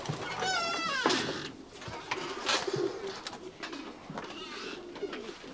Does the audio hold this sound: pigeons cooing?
yes